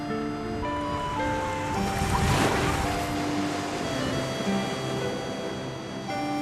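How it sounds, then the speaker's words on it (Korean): Rough sea waves surge and crash continuously in a loud, churning roar of water close by, swelling to a stronger burst midway, with steady tonal hum underneath. "쉴 새 없이 들이치는 파도에 몸도 제대로 가눌 수 없는 상황."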